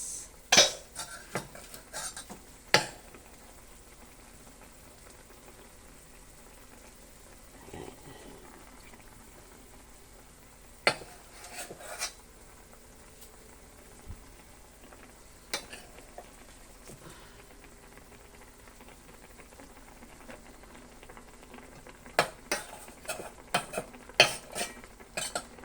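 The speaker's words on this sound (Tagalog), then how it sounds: "So, pwede na natin ilagay yung ating sinaing na bigas." Cooked rice tipped into a pan and stirred for buttered paella, giving scattered scrapes and clinks of a spoon against the pan, with louder bursts at the start and end over quiet sizzling.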